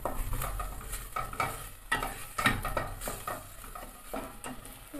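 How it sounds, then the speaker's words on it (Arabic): Onion fries in a pan with salt, a crackling sizzle broken by the repeated scrape and clatter of stirring against the pan, close and fairly loud, no voices. "ضروري ما نشحروا البصله مزيان"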